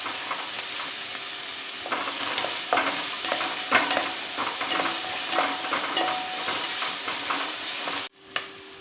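Taro pieces sautéing in a pan for a curry, with a steady sizzle and scattered stirring scrapes, close and moderately loud, ending in a sudden cutoff.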